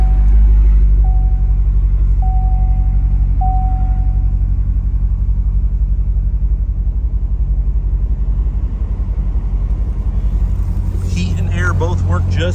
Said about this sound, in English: And I'll let you hear the exhaust.